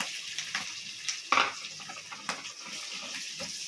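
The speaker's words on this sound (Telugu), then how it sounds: "సో వీటిని మనము చాలా బాగా ఫ్రై చేసుకోవాలి" Onions, curry leaves and green chillies fry in hot oil for a biryani, giving a steady close sizzle with a few sharper crackles and stirring scrapes.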